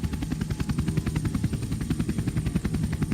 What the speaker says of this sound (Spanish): apenas audible por encima del sonido del rotor del helicóptero zumbando sobre